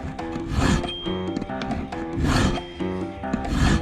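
A file rasps back and forth across metal in a steady, rhythmic series of loud, close strokes, about one per second.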